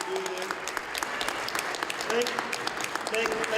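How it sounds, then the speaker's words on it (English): Audience clapping at a ward aldermanic runoff election forum held at a school, a sustained patter of many hands with talking voices heard faintly beneath it. "let's give everybody a hand and applause"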